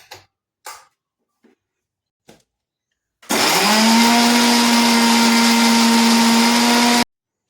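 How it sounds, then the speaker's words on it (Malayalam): An electric mixer grinder grinds ginger, curry leaves and garlic in a kitchen, starting abruptly after a few soft taps and whirring with a loud, steady high-pitched motor whine for about four seconds before cutting off. "എന്താ പറയാ, മിക്സിയിലിട്ട് ഗ്രൈൻഡ് ചെയ്യാൻ പോവാണ്."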